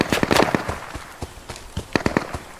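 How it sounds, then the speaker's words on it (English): Sharp cracks of gunfire in the game Deadside on PS5 pop in irregular bursts, some close together, over a low background hiss. "hope we don't die from the gunfire here"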